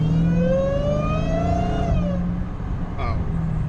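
Car fitted with a K&N Typhoon intake, its engine revving with a rising whine that climbs in pitch for about two seconds and then drops off, heard from inside the cabin over wind noise, loud and close.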